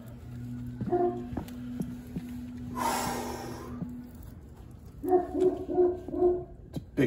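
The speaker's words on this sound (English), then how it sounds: "It's a big dog. It's got like a big man bark." A big dog barking and snorting, heavy breaths and gruff, deep bark-like bursts with a steady low hum running under the first half, moderately close.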